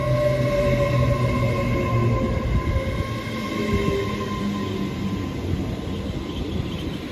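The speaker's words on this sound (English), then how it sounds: "There goes 800 316 on the 1655 Great Western Railway service to Cardiff Central." Great Western Railway train 800 316 roars through Didcot Parkway station, a loud, close, sustained rumble with humming tones that slowly eases as it passes.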